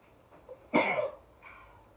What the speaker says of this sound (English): So now the sneeze is coming.